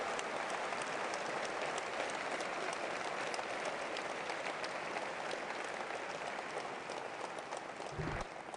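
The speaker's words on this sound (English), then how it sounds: "Please give a warm round of applause, please, for the Prime Minister of France," An audience at the Airbus A350 XWB final assembly line inauguration gives sustained applause for French Prime Minister Jean-Marc Ayrault. The clapping is dense, even and continuous from a large crowd, with a brief low thump near the end.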